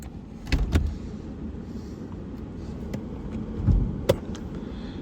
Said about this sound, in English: So if we pop the bonnet now, in theory, it should